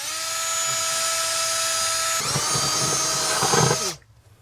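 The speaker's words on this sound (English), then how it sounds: "this is going to be a 1/2-inch drill bit just to fit our grommet" A power drill with a half-inch bit whines steadily, then bites into a 2022 Jeep Renegade's body with a grinding, rougher tone before stopping abruptly, loud and close.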